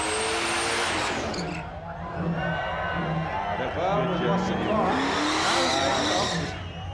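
Burnout car at Summernats 14 eliminations, engine roaring loud and close with tyres squealing and skidding in long rising sweeps, under a spectator crowd and a commentator's voice.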